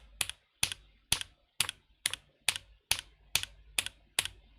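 Alpha keys typed on a dense, foamless Bluetooth hotswap mechanical keyboard, ten crisp, evenly spaced clacks that stop cleanly after each press, close and clear with no talking.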